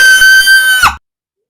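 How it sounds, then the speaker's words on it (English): Loud, high sustained scream lasting under a second, ending abruptly into silence. "And then a scream shattered the silence."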